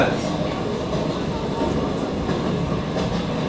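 A stage-play sound effect of a moving train, a dense continuous rumble of wheels and carriages with faint clickety-clack rhythm, steady and loud throughout.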